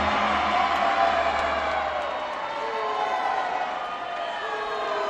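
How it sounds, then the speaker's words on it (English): A large crowd at a judo arena during the World Judo Masters finals keeps up a steady, roaring wash of cheering and whooping, with commentators talking over it. "It's a really good crowd here. They get behind the people"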